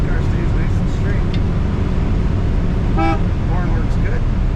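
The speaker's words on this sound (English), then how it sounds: "Horn works good." A 1957 Ford Thunderbird's horn gives one short, bright honk midway through, heard over a constant low rumble of car and road noise.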